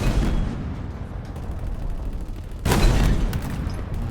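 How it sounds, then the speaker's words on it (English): A tank round fires in a video game, landing as a single heavy, loud boom that cuts through a rumbling background of battle noise and sustained low engine drone. "That sounds meaty. Tank round."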